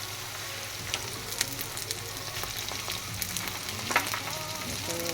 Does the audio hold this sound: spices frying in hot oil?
yes